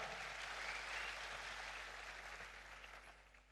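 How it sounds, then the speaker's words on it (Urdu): Audience at a World Environment Day ceremony in Pakistan applauds steadily, a dense wash of clapping that holds for several seconds and then slowly fades. "ابرار الحق کے لیے بھرپور تالیاں."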